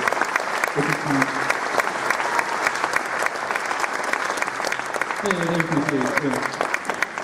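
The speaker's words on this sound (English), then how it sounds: "Can you guys give it up for them?" An audience at an all-region concert band performance applauds the band staff, a steady roar of clapping lasting throughout, with a few brief voices and cheers poking through.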